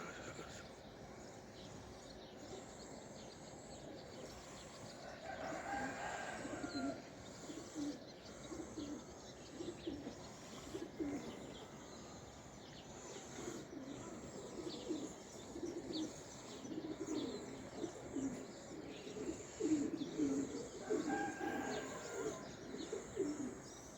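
Pigeons cooing and chirping in a loft where young birds have been added to the flock, soft repeated coos and scattered tweets at moderate distance, with faint wing flaps.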